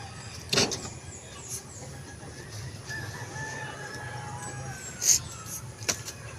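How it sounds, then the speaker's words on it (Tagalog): Caged chickens and a rooster at a backyard farm feeding time, with a rooster crowing and scattered clucks heard at a moderate distance over steady low background hum and occasional faint engine noise. "At sa ating mga manok na nasa kanilang cage."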